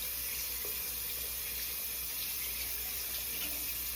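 Running tap water streams steadily into a sink while a paintbrush is rinsed beneath it, a continuous close hiss and splash with faint shifts as the bristles move through the flow.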